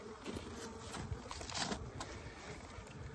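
A thick, steady buzz of many honeybees swarming close around a strong beehive in early March, a continuous droning hum with no voices.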